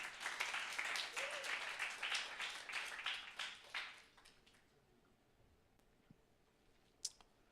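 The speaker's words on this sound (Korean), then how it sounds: "박수 한번 해주십시오" A congregation at a Korean Sunday worship service claps together for about four seconds, a lively burst that tapers off into quiet room tone, followed by a single sharp click.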